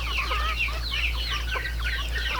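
A flock of chickens clucks and chirps continuously nearby while eating, a busy overlapping chatter over a steady low hum.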